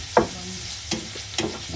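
Chorizo fries in a pan, giving a sizzle under three or four close scraping stirs spread across the short stretch.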